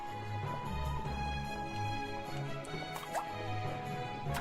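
Water is poured into a red cooking pot in the Battle Chef Brigade video game, a soft, steady trickling and dripping under a low, looping game soundtrack.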